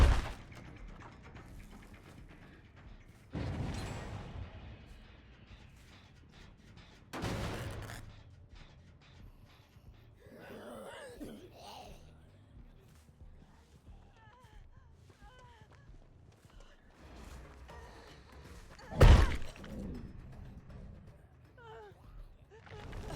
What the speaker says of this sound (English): The thuds are so loud. There's absolutely no reason for them to be so loud.